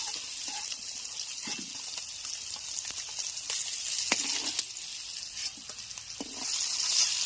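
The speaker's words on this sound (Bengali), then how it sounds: "দেখেন আমার মাছটা ভাজা হয়ে গেছে" Fish frying in a pan, a continuous close sizzle with intermittent clinks and stirring scrapes, growing a little louder near the end, with no voices.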